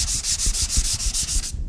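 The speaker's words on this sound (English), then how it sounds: "and you just start sanding" A sanding sponge scrubs freshly applied drywall mud in quick, steady back-and-forth strokes, a close, loud, gritty rasping that pulses about eight times before stopping abruptly, with no voices.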